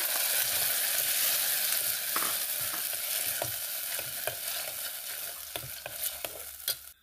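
Green chillies and cooked moong dal being stirred in a frying pan for raw mango pappu, with a steady close sizzle and repeated scraping strokes of a spoon, and no talking.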